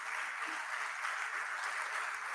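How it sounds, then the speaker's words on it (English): Audience applause for panelists at a coal regions policy conference, a steady even wash of clapping filling a hall without pause. "A big applause to the panelists."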